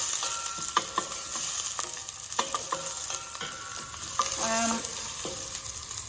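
Onion sautés in about two tablespoons of oil in a pan over lowered heat, a steady close sizzle broken by repeated stirring scrapes and taps, with no talk.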